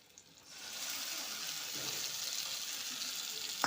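Mashed cabbage and peas hit a pan of fried onion, bursting into a steady, close hissing sizzle after a quiet start and holding it to the end, without talk.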